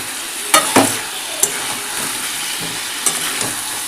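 Fried potatoes and green chillies stirred in an oily pan: a constant sizzle punctuated by several sharp spatula scrapes and clinks against the metal, close and clear, no voices.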